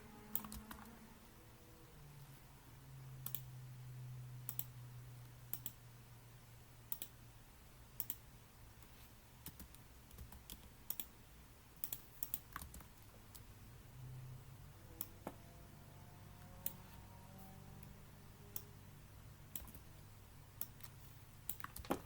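Steady typing on a computer keyboard while writing Terraform code for an AWS EventBridge rule, quiet clicking keystrokes in irregular bursts over a low background hum, no talking.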